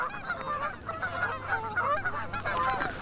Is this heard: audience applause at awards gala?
no